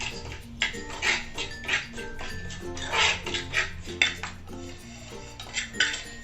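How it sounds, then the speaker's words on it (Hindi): Semolina being lightly dry-roasted in a pan, with a spoon repeatedly scraping and clinking against the metal in an irregular rhythm, close and fairly loud, with a dog faintly whining in the background. "तो मैं इसी को हल्की सी भून लेती हूँ।"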